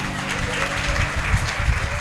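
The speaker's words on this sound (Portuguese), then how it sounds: "aplauda o Senhor." A church congregation applauds in worship, a continuous wash of clapping blended with low sustained tones and murmuring voices underneath.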